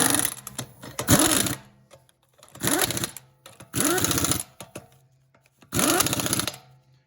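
An impact gun tightens the wheel lug nuts on a 2011 Buick Regal in four loud, rattling bursts of about a second each, separated by short pauses, close by with no talk.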